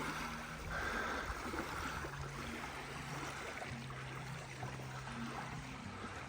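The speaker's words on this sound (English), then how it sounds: "That wonderful sound, the sound of waves just lapping up." Small waves lapping at a beach shore, a soft continuous wash of water with gentle irregular splashes, faint and steady with no voices.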